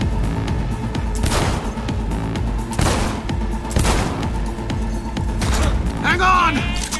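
Rapid machine gun fire rattles loudly in the shooter game Cyberpunk 2077, in sustained bursts with heavy thumps, while a player talks over the shooting.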